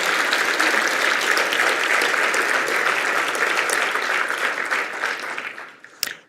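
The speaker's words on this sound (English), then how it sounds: "let's give them another round of applause for the amazing Harvey and Bonnie" Sustained applause from a gala audience at an ALS foundation benefit fills the room, loud and even, fading toward the end with a brief thump.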